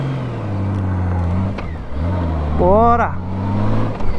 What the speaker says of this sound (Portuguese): Vamos pra frente, o motorzão da Honda